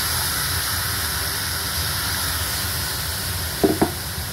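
Fried food in a pan sizzles steadily as a little water is added, giving a continuous hissing fry with a couple of brief clinks near the end and no talking.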